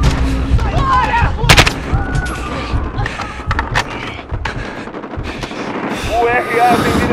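Constant gunfire and heavy explosions from the Call of Duty: Modern Warfare (2019) campaign, set around Piccadilly Circus, pound loudly and densely throughout, with shouted in-game voices mixed in.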